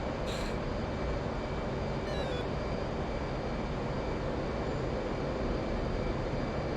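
Steady roar of a military jet engine at takeoff in the DCS flight simulator, a constant broadband rumble that holds at even loudness throughout, with brief faint chirps near the start.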